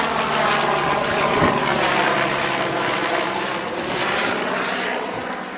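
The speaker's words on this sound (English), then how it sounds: "It's probably a hospital helicopter or something." A helicopter passes overhead, a loud steady rotor and engine drone that holds for several seconds and then eases slightly as it moves away.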